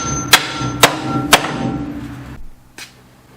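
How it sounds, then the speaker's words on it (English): A hammer pounds on a car spindle to free a ball joint while removing stock springs on a G-body: three sharp metallic whacks about half a second apart, then a single fainter strike after a pause, close up. "We're gonna pound on the spindle to get it to release."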